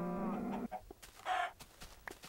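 A Minecraft chicken clucks in a couple of short, faint squawks followed by quick thuds and hit sounds from the video game, all within about two seconds.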